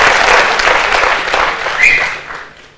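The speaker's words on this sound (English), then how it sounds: "Big round of applause, please." Conference audience in a Bangalore auditorium applauding a finished talk, a dense wash of many hands clapping that fades out toward the end.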